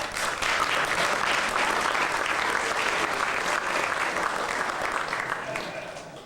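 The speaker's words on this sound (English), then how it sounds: "you may clap. You may clap." Banquet guests applaud together in a hall during an evening banquet on an Irish trip, a dense, steady clapping from a large crowd that holds for several seconds and then eases off slightly at the end.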